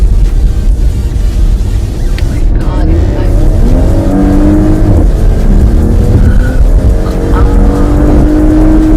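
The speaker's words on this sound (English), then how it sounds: "और अब मैं इसको एक्सेलरेट करने लगा हूँ." A Porsche Panamera accelerates from inside the cabin, a steady loud engine drone with rising harmonic tones as it gathers speed, continuous throughout with brief voices underneath.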